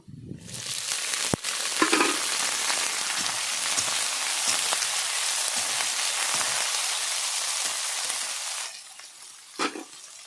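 Potatoes go into hot oil with fried garlic in a pan while cooking Bengali methi greens, setting off a loud, steady sizzle that holds for several seconds with a few stirring clatters and a brief knock near the end.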